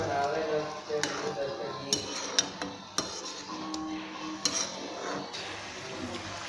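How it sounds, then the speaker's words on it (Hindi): Spoon scraping and clinking in a pan of chicken jalfrezi karahi on high heat, with light metallic knocks and a steady low sizzle over several seconds; no one talks. "इसको मिक्स कर लेंगे और आंच को हमने तेज़ ही रखना है।"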